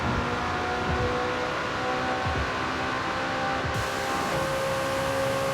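A McLaren 765LT accelerating hard on a straight road, heard as a loud, continuous engine roar with a few rising pulls as it gains speed, no voices.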